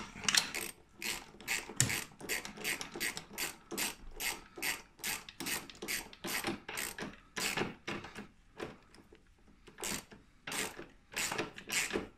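A hand ratchet tightens a bolt on a Ski-Doo REV XP snowmobile QRS clutch in quick bursts of crisp clicking, each stroke a rapid pawl rattle, with short pauses between swings, close and alone.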